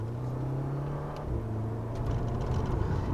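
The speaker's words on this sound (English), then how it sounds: "has a nice sporty exhaust note to finish it off" Volkswagen Golf GTI Mk6 giving a low, sporty exhaust rumble, a steady drone that briefly dips and then builds again as the engine note rises, moderately quiet with no talking.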